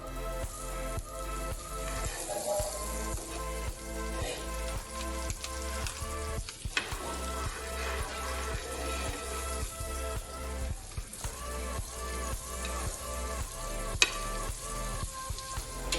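A palak cheese corn paratha roasts in butter in a pan and gives a steady, close sizzle with small crackles and a few soft stirring or flipping taps throughout. No one speaks.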